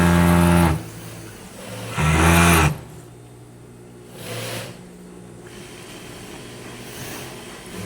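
A five-thread industrial sewing machine runs a side seam in two loud, humming bursts, then quieter shorter runs, with pauses between stitching spells.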